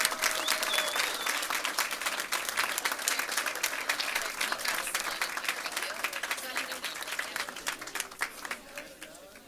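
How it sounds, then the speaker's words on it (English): An audience at a school board meeting applauds student poets with sustained, dense clapping that fills the room and gradually thins and fades toward the end. "let's give them a big round of applause."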